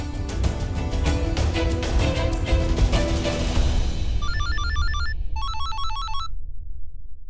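A telephone ringback tone sounds while a call is being placed: busy music and noise fade out, then two short bursts of electronic warbling ring tone follow in quieter surroundings.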